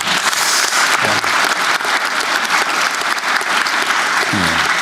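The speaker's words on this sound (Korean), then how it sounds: "박수 한번 줘보세요 한번." An audience at a gathering of small business owners breaks into sustained, dense clapping that fills the whole stretch, with a voice briefly audible underneath.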